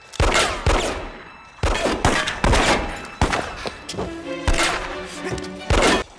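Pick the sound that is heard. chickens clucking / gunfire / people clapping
gunfire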